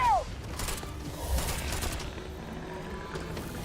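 Sci-fi weapon fire during a firefight in the space game Starfield: a string of sharp, overlapping shots and impacts over a constant rumbling combat bed, at moderate loudness with no clear pauses.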